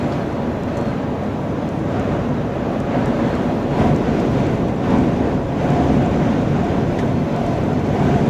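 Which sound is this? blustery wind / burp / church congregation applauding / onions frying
blustery wind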